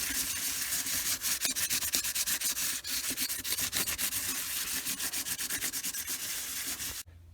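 Ukulele wood is sanded by hand with 320 grit sandpaper, a close, continuous rough rubbing with quick back-and-forth strokes for about seven seconds before stopping abruptly.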